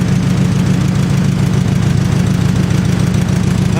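A 1950 Farmall H tractor engine runs steadily at a loud, close idle, with a continuous low rumble and an even chugging pulse throughout.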